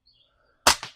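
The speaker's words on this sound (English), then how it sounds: "This is a SigSauer 177 CO2 powered" A single sharp crack from a SigSauer .177 CO2-powered air pistol, loud and close, with a short tail after the shot and near silence before it.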